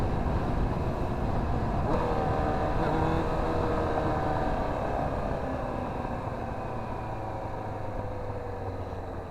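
A Yamaha R1 sport motorcycle's engine runs steadily with a dense, constant roar that fades slightly toward the end, with no talking.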